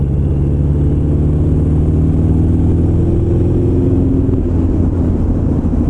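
Steady motorcycle engine drone on a test ride, the carburetor fitted with velocity-stack funnels after an oil change and muffler adjustment; a continuous loud low rumble with a rising pitch, no talk over it.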